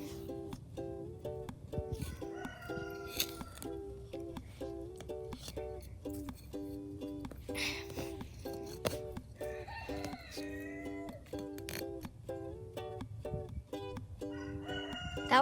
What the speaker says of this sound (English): That was our big rooster.